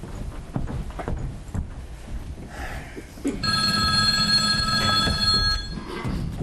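A telephone rings in a stage play, a sustained bright electric bell tone that starts midway and keeps ringing loudly over earlier footsteps and background clatter.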